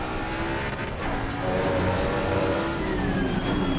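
Racing video game GT3 Mustang under heavy ABS braking, a dense rumbling engine and tyre roar with shifting tones as speed bleeds off, loud and close throughout with no voices.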